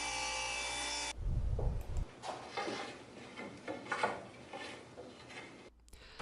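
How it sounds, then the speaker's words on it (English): A table saw rips cedar boards into narrow strips. A loud, steady hum gives way to a burst of low rumble as the blade bites, then rough, uneven rasping cut noise follows and briefly drops before the motor returns. "we're taking some cedar boards and we're ripping them down"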